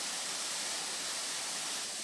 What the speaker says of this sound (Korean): 때마침 내린 비가 거대한 월광폭포를 만들고 떨어지는 물소리에 뽀얀 물보라를 일으키는 풍경은 말 그대로 장관이다